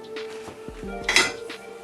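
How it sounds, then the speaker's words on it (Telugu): Steel rice pots and other large Indian cooking vessels are loaded into a Bosch dishwasher, making a couple of close metallic clanks and a bright ringing clatter of steel against the racks. "నేను మళ్ళీ రైస్ గిన్నె పెడుతున్నా ఇక్కడ."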